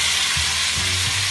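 Cherry tomatoes, garlic and pepper sizzle in olive oil in two pans, a loud, steady, close crackling hiss with a few soft stirring knocks.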